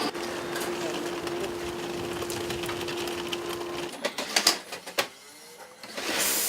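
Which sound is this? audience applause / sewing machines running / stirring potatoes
sewing machines running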